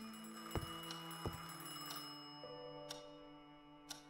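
A telephone rings in the Scratches video game, a soft repeating electronic tone with sharp ticking clicks at intervals, heard faintly and alone.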